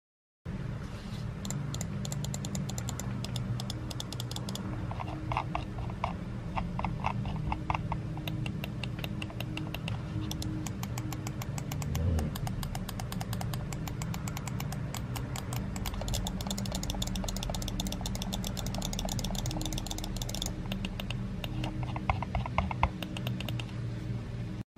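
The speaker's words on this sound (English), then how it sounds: "here's what the mouse sounds like" Sharp, rapid clicking from the buttons of a Razer DeathAdder Essential gaming mouse, continuous and dense over a steady background, close and fairly even in loudness throughout.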